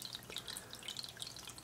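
Water poured slowly into a home fish aquarium, a faint, steady trickle with small splashy drips against a quiet background.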